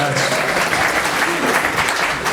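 Applause from a comedy-show audience, a dense steady wash of clapping that holds at the same loudness throughout, close and continuous with no voice over it.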